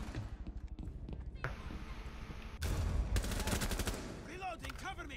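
Rapid bursts of gunfire crackle in a tactical shooter video game, clustered volleys and single shots mixed with footsteps, while players talk over the action.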